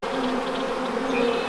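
Honey bees buzz around a horizontal hive in winter, a close, continuous droning hum with wavering pitch as individual bees pass near.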